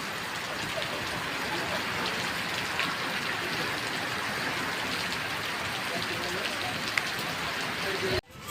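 A heavy, unbroken downpour at Somnath temple, Gujarat, hisses and patters on surfaces nearby, steady throughout, with faint background voices, cutting off abruptly at the end.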